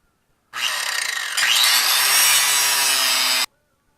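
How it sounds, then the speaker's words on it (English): Angle grinder biting into a chain rivet on a KTM 1190 motorcycle chain, a harsh close metallic grinding that starts abruptly, rises in pitch and load partway, then cuts off after about three seconds. "So what I do is I grind the rivet off"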